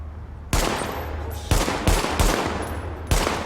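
Pistol shots fired from behind a shield in The Division ring out as five sharp, loud cracks spaced unevenly, each followed by a short ringing tail, close and with no talk.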